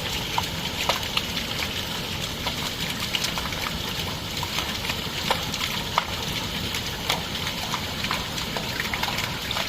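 Water gushes continuously into a borewell recharge pipe after rain, a steady close rushing flow with small splashes and gurgles throughout and no talk over it.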